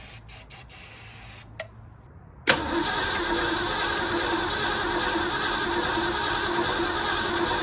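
A 1963 Mercury Meteor cranks briefly after a few clicks, then its V8 catches on carb cleaner and settles into a loud, steady, close idle.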